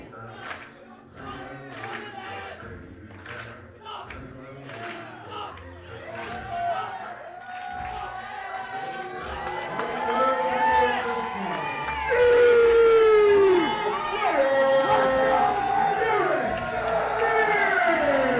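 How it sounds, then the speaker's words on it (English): At a professional wrestling show, the arena crowd roars for a wrestler, a broad wash of cheering that swells and stays loud beneath an excited commentator talking throughout. "Listen to the crowd come unglued for the King's Road Slayer"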